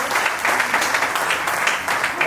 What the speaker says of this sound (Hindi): जोरदार तालियों से इनका भी अभिनंदन